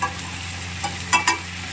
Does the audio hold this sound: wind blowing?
no